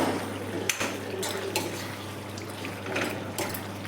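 Chicken pieces being stirred with chili powder and salt in a pan, with scattered metallic clinks and scrapes of a spoon against the pan over a low steady hum.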